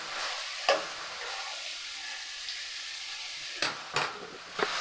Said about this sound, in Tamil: இதிலையே இந்த எண்ணெயிலே நல்லா வேக வைக்கணும் இதை